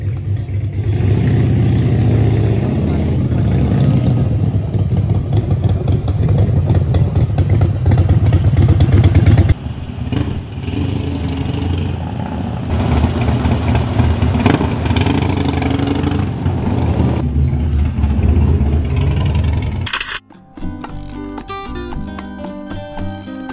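Harley-Davidson Softail motorcycles starting and pulling away at night, their V-twin engines rumbling loudly and revving close by for a long stretch, then cutting off abruptly into a quieter scene.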